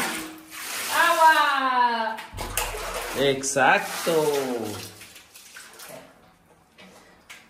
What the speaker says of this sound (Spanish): Es mejor lavar así a mano que con la lavadora.